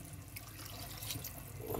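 Water pours into a cooking pot in a home kitchen, a steady running splash that lasts about two seconds with no talking.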